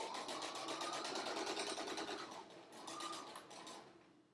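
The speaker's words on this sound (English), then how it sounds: "now we've sewn our new seam closer to the raw edge" A sewing machine stitches a new seam on men's dress pants, a fast, even whirring hum with a light mechanical rattle, briefly slowing and easing before picking back up and fading.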